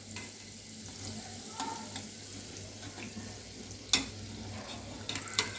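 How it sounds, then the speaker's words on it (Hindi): Vada fry in oil over a low gas flame, a quiet steady bubbling sizzle with a few sharp clinks of a utensil against the pan. "स्लो गैस पे वड़ा फ्राई करेंगे गोल्डन ब्राउन होने तक।"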